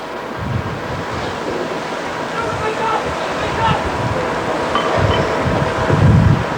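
Fire brigade hoses spraying water during a firefighting drill, a broad continuous hissing rush with low rumbling bursts, steady and fairly loud, with faint voices underneath.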